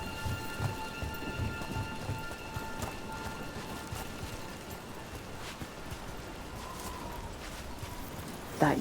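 Steady rain hisses and patters on surfaces in a Dragon Age: The Veilguard game scene, with low thunder rumbling beneath it throughout and a louder crack near the end.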